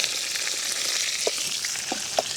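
Onions sizzle steadily in hot oil with mustard seeds, chili and curry leaves, a dense close frying hiss broken by a few faint pops and stirring taps.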